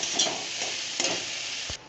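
Greens being stirred in a hot pan with salt and turmeric give a close, dense sizzle, broken by a few soft scraping strokes and a brief knock near the end, with no voices.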